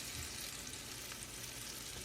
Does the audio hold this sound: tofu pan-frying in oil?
yes